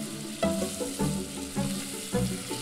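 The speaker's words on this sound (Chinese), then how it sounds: "起油锅，将牛肉米倒入锅里的小火煸炒" Minced beef sizzles in hot oil in a wok over low heat, with steady frying crackle and rhythmic scrapes of stirring close by.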